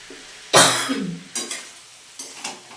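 Coughing in a kitchen caused by pungent spice fumes from a frying pan: one strong cough burst followed by two shorter, softer ones, close up.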